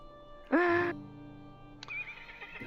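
A horse mount in the video game LOTRO lets out a loud, sharp whinny that drops to a lower tone, followed after a pause by a second, fainter neigh over a quiet hum.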